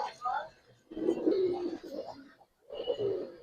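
Silver Giribaz pigeons coo in soft, low rolling phrases at close range, with a voice talking over and between the calls.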